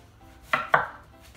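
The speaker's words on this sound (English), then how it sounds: "Okay, now for the onion, which I don't know how to do. I just cut it in half." Two sharp knife strokes cut through an onion and strike a cutting board, close and crisp against a quiet room.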